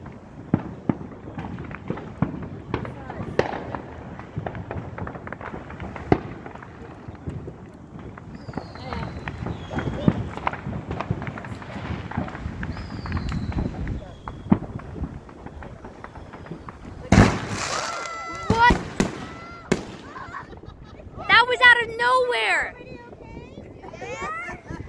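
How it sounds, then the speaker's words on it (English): Fourth of July fireworks pop and crackle repeatedly in the distance, with sharp bursts scattered over steady outdoor noise and wind, a dense crackling barrage near the end, and voices of children and adults talking over them. "Oh man, these fireworks are getting better and better."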